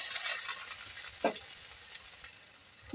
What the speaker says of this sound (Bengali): এখন তেল দিয়ে দিব তাতে রসুন বাটাগুলো দিয়ে দিচ্ছি পেঁয়াজ কুচি দিয়ে দিচ্ছি